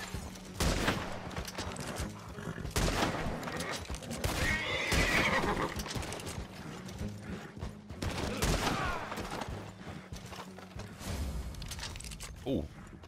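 A horse whinnies amid a busy Red Dead Redemption 2 Online game soundscape, with hoofbeats and bursts of distant gunfire layered over steady background noise.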